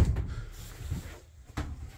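An RV sliding door slides shut, a short rolling rumble followed by a soft thud as it closes, then a second brief knock, close by with no talk.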